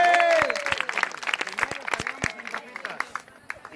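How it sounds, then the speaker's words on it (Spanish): Applause for the shopkeeper at a church youth camp bonfire, scattered clapping and crowd noise under a voice speaking loudly, tapering off over a few seconds. "Un aplauso para el tendero"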